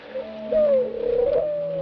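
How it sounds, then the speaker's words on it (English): Doves coo with a low, soft, sustained call that swells and wavers over about two seconds, clear and fairly close against a quiet background. "It's Father's doves."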